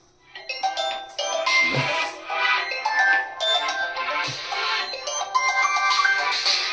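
A mobile phone ringtone plays a loud, close melodic sequence of bright chiming tones that repeats steadily for several seconds, with no talking over it.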